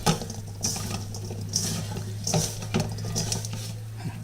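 Deluxe pasta salad with cut cheese pieces being mixed in a bowl, soft wet stirring and scraping with occasional clinks of a utensil against the dish, quiet and close with no talk.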